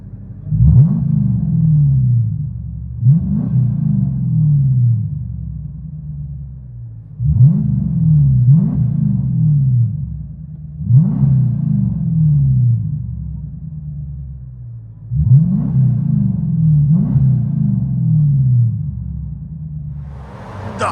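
Deep, rumbling exhaust of a 2014 Dodge Challenger R/T with a 5.7L HEMI V8, Carven R-Series mufflers, mid-delete and quad tips, heard from inside the cabin: five or six repeated throttle blips rising and falling over a steady low idle.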